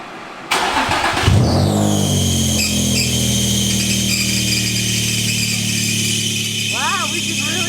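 A Nissan 350Z with test pipes installed cranks and fires up, then settles into a loud, raspy idle with a belt-driven supercharger whine running steadily through it, recorded close by.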